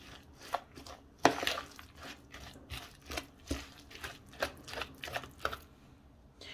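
Minced chicken mixed with zucchini by hand makes soft, irregular squelching and slapping sounds, each a separate muffled pat, close and fairly quiet.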